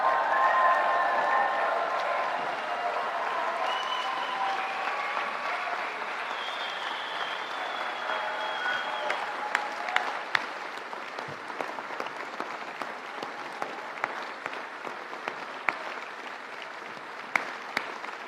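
An auditorium audience applauds the HEC Paris faculty, a dense wash of clapping that starts full and gradually thins to scattered claps toward the end.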